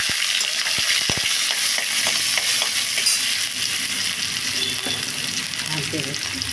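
Ginger and green chili frying in a pan, a constant close sizzle with light scraping and stirring clicks throughout.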